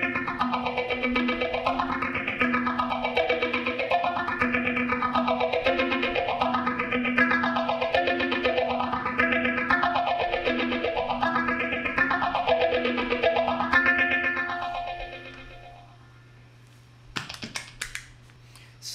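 Electric guitar playing a riff through a delay effect, with repeating notes that rise and fall in a steady cycling pattern, ending in a few brief clicks.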